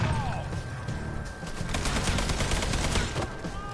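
Rapid bursts of gunfire from a Mafia III shootout crackle almost continuously for a few seconds, dense and loud, with sharp individual shots peppering the close mix.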